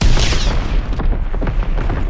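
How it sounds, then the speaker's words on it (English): An artillery strike in the Call of Duty WWII video game: loud, continuous rumbling booms with crackling debris, dense and close, filling the whole moment without any voice. "Artillery. Target position confirmed."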